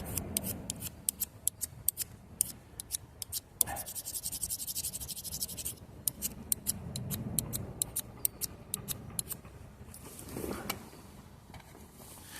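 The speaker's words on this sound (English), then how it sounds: "This one's brand new. I've got to get some scrapings off it." A brand-new ferro rod is scraped outdoors on a cold day to build a pile of shavings. The sound is a close series of sharp, rhythmic scratching strokes with short pauses between bursts.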